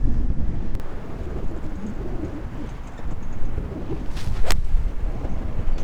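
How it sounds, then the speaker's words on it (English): Wind gusting across an outdoor golf green, a steady low rumble buffeting the microphone throughout, with a bird briefly cooing in the background. "Yep, there's the wind."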